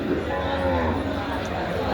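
A buffalo at a Dabwali cattle market gives one long, close, low moo over a background murmur of the market.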